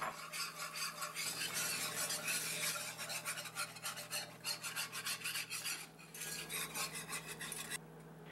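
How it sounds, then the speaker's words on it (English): A butter and flour roux is stirred in a cast iron skillet, a continuous rasping scrape of utensil against the pan in quick repeated strokes, close and fairly quiet with no voices. "We only need to stir the roux for a couple of minutes to properly cook it"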